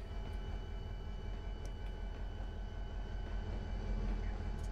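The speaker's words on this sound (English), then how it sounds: "Is that the train? That is the train." Train in the Trainz 22 railway simulator on the Milton Valley Railroad near the harbor, a steady low rumble with a faint whine that holds at a constant level throughout, heard alone.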